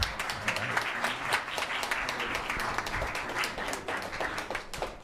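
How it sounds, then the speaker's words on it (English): Audience at a town council meeting giving a round of applause, a dense, steady burst of clapping from a room of people that holds for several seconds before easing off. "And how about a round of applause?"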